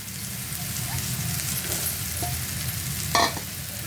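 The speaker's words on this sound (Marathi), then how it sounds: "आता आपण ह्यो भाजून घेतलेला मुळा जो होता तो आता टाकून घ्यायचा आपण ह्याच्यात कांदा टोमॅटोमध्ये" Roasted radish tipped into a pan of frying onion and tomato, with a steady close sizzle, a light stir, and a brief louder clatter near the end.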